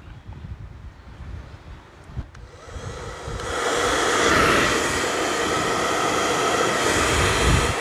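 Hair dryer being tested after a repair for a burning smell, switching on partway through and then blowing a loud, steady airy whoosh up close with no talking.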